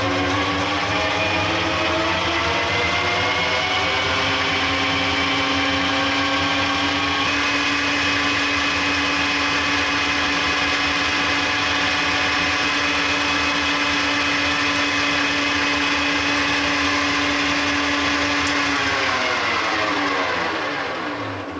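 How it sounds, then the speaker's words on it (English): An old Colchester lathe driven through a VFD, spinning steadily at 1200 RPM with a continuous loud mechanical whine and gear hum that stays even throughout, then begins winding down near the end. "I've got the lathe set to rotate at 1200 RPM at the moment"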